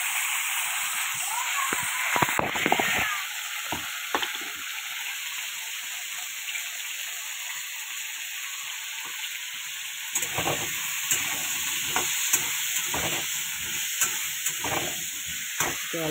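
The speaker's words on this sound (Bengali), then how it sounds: "আলুটাকে এবার একটু লাল লাল করে ভেজে নেবো, একটু হলুদ দিয়ে দেবো।" Potatoes frying in a pan with turmeric, a steady sizzle running throughout with scattered scrapes and clinks of stirring, busier bursts near the start and again in the second half.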